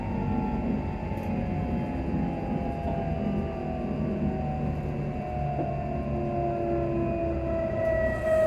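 Steady low rumble and whine of a passenger train slowing as it approaches Caldercrooks station, tone gradually falling, continuous throughout with no voices.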